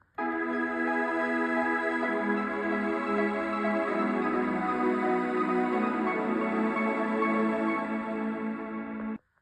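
A steady, sustained synthesizer melody played up an octave, dense and bright, with layered tones that swell slightly and then stop abruptly.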